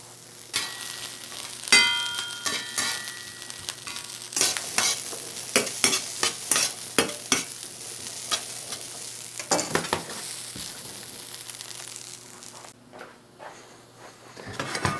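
Chickpeas frying in an OXO Good Grips carbon steel pan, a steady sizzle under a run of clattering stirs and metal scrapes, the knocks bunched in bursts and then easing off, with nobody talking.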